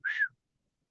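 A single short whistle from a person, one clear steady note lasting about a third of a second, close and alone in silence.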